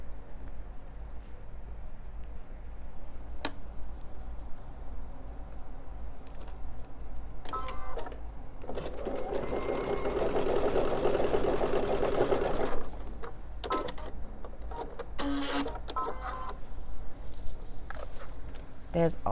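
Home sewing machine stitching many seams on a quilt, a steady mechanical whir swelling for a few seconds in the middle, with talking before and after and small clicks and handling noises around it.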